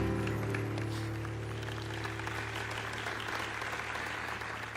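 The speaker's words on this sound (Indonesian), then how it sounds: "Yuk tepuk tangan untuk suaminya tuh." An audience at an Indonesian stage show applauds a guest's husband with sustained, even clapping at moderate distance over a low steady hum and faint background music.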